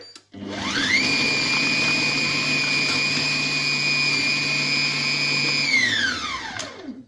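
A Compact Cook Pro food processor chopping guacamole spins up, runs at a loud, steady, high whir for several seconds, then winds down close by.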